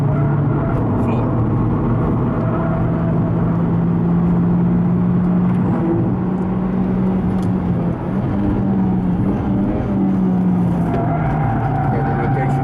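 A Formula 3 race car engine drones loudly at full throttle with a steady high whine, close and constant, while a person talks over it.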